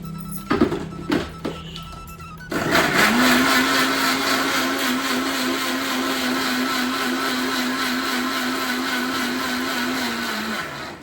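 An electric blender whirs a banana milkshake of banana and milk, starting after a few handling knocks and then running loud and steady for about eight seconds before stopping.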